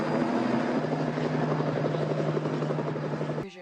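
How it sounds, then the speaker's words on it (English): A helicopter from the 1990 film Misery drones loudly and steadily overhead, its rotor thrumming without a break for several seconds before cutting off abruptly. "What's with the helicopter?"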